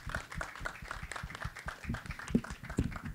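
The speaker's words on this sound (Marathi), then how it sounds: "तर जोरदार टाळ्या." Audience clapping at a Marathi film trailer launch for Devmanus, a steady crowd patter of hand claps that carries on through the stretch at moderate level with a few sharper, louder claps near the end.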